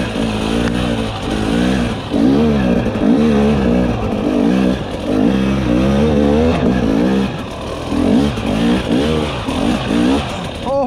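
A 2021 Husqvarna TE300i two-stroke dirt bike revs repeatedly while being ridden, its loud engine rising and falling in a series of surging bursts close to the rider.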